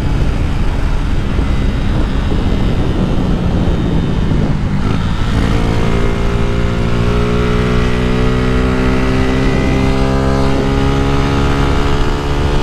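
A 150cc motorcycle with its catalytic converter removed runs loud and close, its engine note climbing through steady rising revs. The raw exhaust drone fills the whole clip without speech.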